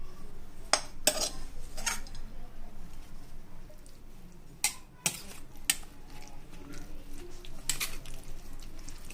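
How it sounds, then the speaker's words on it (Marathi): A spoon clinks against a bowl as tempered beetroot is mixed into yogurt, with a few sharp scattered taps over quiet kitchen background and no talking. "आता आपण फोडणी दिलेलं बीट दहीमध्ये मिक्स करून घेऊयात।"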